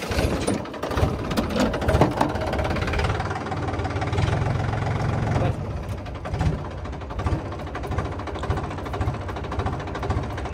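Tractor engine running in a grape vineyard, a steady mid-low idling drone with knocking pulses, continuous and fairly close, briefly louder near the middle.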